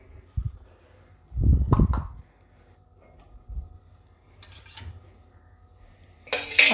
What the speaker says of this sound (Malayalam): അത് ഇതിലേക്ക് ഇട്ട് കൊടുത്ത് നന്നായി ഒന്ന് ഇളക്കി കൊടുക്കുക